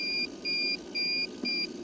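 An Intex SF90110-1 pool pump and filter control panel beeps four times in a steady, evenly spaced pattern, each tone short, clear and high-pitched.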